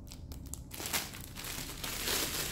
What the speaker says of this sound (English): I'll take a look at this festive paper.